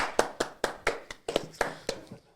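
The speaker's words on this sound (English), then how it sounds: "That was a weak clap." A single person gives a short run of about nine light hand claps, evenly spaced, close by and fairly soft, fading out at the end with no one speaking.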